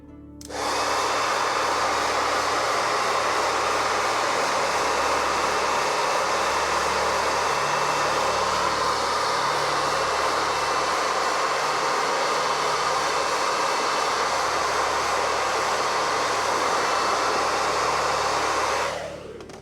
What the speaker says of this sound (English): I think we're gonna hit it with the blow dryer again.